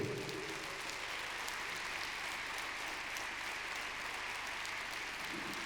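Large crowd applauding a band at a military tattoo, a dense continuous roar of clapping that stays even and full from start to finish.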